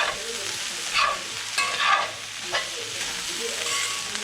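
Minced garlic sizzles and crackles in a hot pan while being stirred, with steady frying hiss and a few louder scraping sweeps of the utensil, close and clear with no talk.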